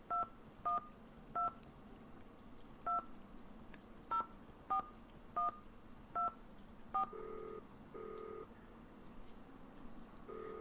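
Touch-tone keypad tones from a phone in the Nancy Drew video game sound as a series of short, evenly spaced dialing beeps, followed by a few longer tones, clear and alone.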